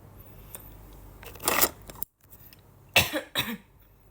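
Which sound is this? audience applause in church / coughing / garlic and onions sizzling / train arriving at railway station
coughing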